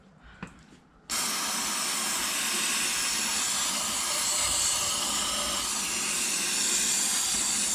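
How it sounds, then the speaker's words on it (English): Brake cleaner sprays in a long continuous hiss onto a C6 Corvette clutch, loud and close, after a second of near quiet with a faint click. "we're going to get some brake clean up in there to kind of loosen everything up"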